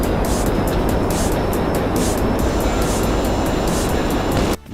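Pyro jet plane from GTA Online roars past in a steady, loud, broadband engine rush that holds for several seconds before briefly dropping away at the end.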